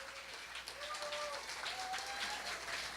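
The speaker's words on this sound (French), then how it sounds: "je voudrais que vous applaudissiez très très fort nos 5 candidats" Sustained, dense audience applause for five contestants at a university science talk competition, steady and loud throughout with faint whistle-like tones riding above the clapping.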